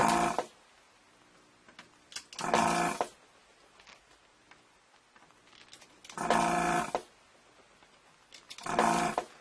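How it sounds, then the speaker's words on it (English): A vacuum desoldering tool fires in four short, loud bursts of hissing suction, spaced several seconds apart, with near-quiet between them, while parts are removed from a Juno-106 synthesizer. "the value of having a vacuum desoldering tool cannot be underestimated"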